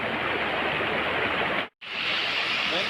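Steady rushing of a river flowing near Ampang hill, a broad continuous wash of water close by, cut by a brief moment of silence before resuming.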